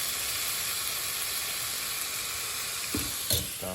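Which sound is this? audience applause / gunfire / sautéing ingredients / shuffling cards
sautéing ingredients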